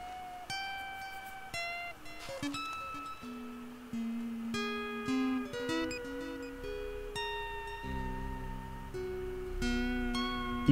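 A 44-note melody played in the video game Stray, a slow, dark sequence of clear sustained tones stepping one after another over a faint low background, quiet and without speech.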